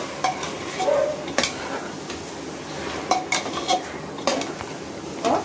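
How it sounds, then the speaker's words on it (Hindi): Spiced mutton for biryani fries in a pan with a steady sizzle, broken by repeated scrapes and clinks as a spoon stirs the meat. The sound is close and continuous, with no voices. "देखिए 3 से 4 मिनट हो चुके हैं मेरे को इसको फ्राई करते हुए"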